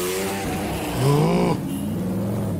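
A McLaren SLR supercar drives past on a street, its engine note swelling and rising in pitch as it nears, peaking briefly, then falling away against the background hum of traffic.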